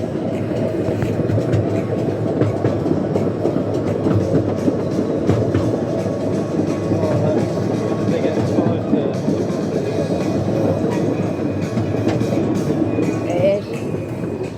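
A roller coaster train runs along its track at Paultons Park, giving off a continuous rumbling, rattling clatter that stays steady and fairly close throughout.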